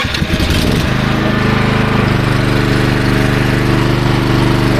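Champion CPG7500 gas-gasoline 7 kW generator with electric start, cranked and catching, then running at a steady loud engine drone close by with no talk.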